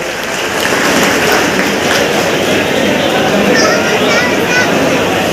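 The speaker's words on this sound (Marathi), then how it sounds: "आपण सर्व शब्दसुमनाने टाळ्या वाजवून त्यांचं स्वागत करावं" An audience claps together to welcome a guest speaker at a youth guidance event in Bhadravati, producing a loud, steady wash of applause that lasts throughout. Voices come through underneath.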